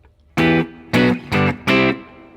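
Four clipped staccato guitar chords from a song, played a little faster, close and bright, each strum stopped short, no talking.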